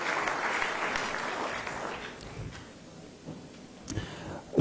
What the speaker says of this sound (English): So give them a big round of applause for a lot of voluntary work that is put in there.